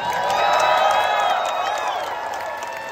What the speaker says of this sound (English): Crowd, give it up one time for all y'all.